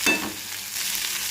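Tomato frying and being stirred in a pan, a short soft sizzle with a brief scrape at the start, faint and close.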